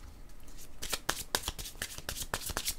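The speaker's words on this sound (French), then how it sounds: "je pense que je vais y aller avec mes cartes jaunes" Tarot cards are shuffled by hand, a close series of crisp riffling bursts and soft flicks repeating in quick, irregular rhythm.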